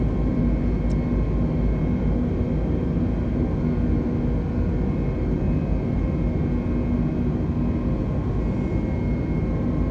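Airbus A320 engines at climb thrust in a flight simulator, a steady, even jet roar and rumble holding constant throughout with no voices.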